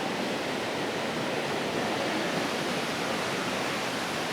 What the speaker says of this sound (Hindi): ये देखें पानी कैसे यहाँ से ठाटे मारता हुआ आ रहा है।